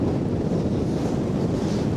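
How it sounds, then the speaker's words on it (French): Steady wind buffets the microphone at an outdoor oyster farm, a continuous low rumbling roar with faint surf-like wash beneath, loud and unbroken throughout. "Je ne sais pas si on m'entend bien avec le vent."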